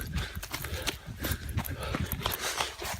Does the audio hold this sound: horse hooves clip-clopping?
yes